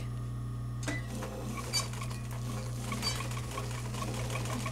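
An embroidery sewing machine stitches yarn into fabric with a steady mechanical hum and fast, even needle ticking, close and continuous after a quiet start.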